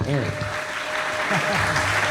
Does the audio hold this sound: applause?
yes